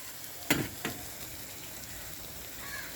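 Bread and egg snack frying in a pan, with a steady soft sizzle and two sharp stirring clinks early on, and no voices.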